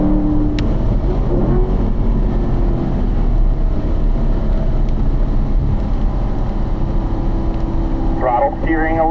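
A race car engine drones loudly and steadily from inside the cabin with wind noise, dropping from fourth gear to third while someone talks over it.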